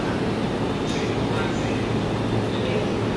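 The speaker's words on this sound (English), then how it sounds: "We'll wait for this train to leave." A Japan Rail train departs Shinjuku station with a steady low rumble and broadband rolling noise, loud and continuous on the platform, with faint voices underneath.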